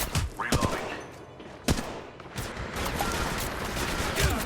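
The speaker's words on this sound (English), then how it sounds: "Getting shot at." Gunfire in a first-person shooter game played on a Poco X3 Pro phone: bursts of rapid shots and a few sharp single cracks over a dense, noisy game soundtrack.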